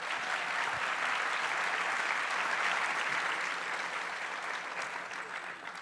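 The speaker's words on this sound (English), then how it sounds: "I think that deserves a little applause" Applause from a crowd at a political book event, steady broadband clapping that runs continuously and slowly fades toward the end, heard at a moderate distance.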